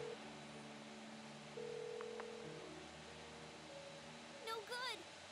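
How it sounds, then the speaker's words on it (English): A P-phone call rings in Persona 4 Golden, a soft repeating electronic tone over steady game background music, with a brief warbling chirp near the end. "Call her on the P-phone."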